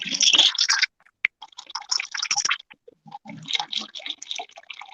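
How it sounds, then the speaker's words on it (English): Water splashing and dripping close to the microphone indoors in irregular bursts of liquid sloshing and trickling, separated by short pauses. "That's water."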